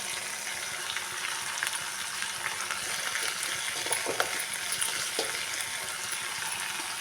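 Gunta kalagara leaves fry in hot oil with a steady, soft sizzling crackle that holds evenly throughout, with occasional small pops and no talking.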